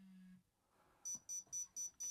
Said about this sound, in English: Starts to beep rapidly.